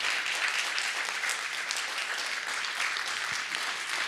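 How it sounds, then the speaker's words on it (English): Crowd applauding law enforcement officers at an evening event marking the January 6th anniversary, a full, dense and sustained roar of clapping from many people that holds steady and loud throughout. "Please stand and give them a round of applause"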